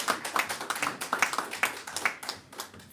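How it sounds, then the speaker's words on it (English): Applause for Namibia at a World Press Freedom Day hand-over ceremony: a small group clapping close by, with distinct, fairly rhythmic individual claps and no talk. "Can you please give our country a round of applause?"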